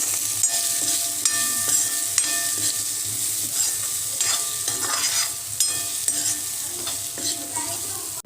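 Jackfruit seed curry with Kashmiri red chili powder fries in a pan and is stirred with a utensil, giving a steady sizzle with repeated scraping and clinking strokes up close.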